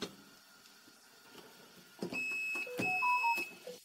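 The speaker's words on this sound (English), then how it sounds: "You can see that the multimeter beeps" Multimeter in continuity mode beeping as its probes touch a shorted microwave capacitor: faint handling clicks, then a few short, thin electronic beeps close by, each cutting in and out.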